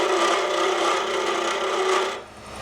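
A high-speed steel tool trues the face of a wood box blank spinning on a lathe, giving a steady close rasping scrape that fades slightly near the end.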